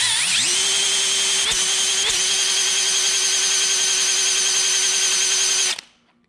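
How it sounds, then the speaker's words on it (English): A power drill whirs at a steady high pitch for several seconds, spinning an engine's oil pump, loud and close, with a couple of brief load bumps, then cuts off abruptly. "So I'm gonna put the drill on it."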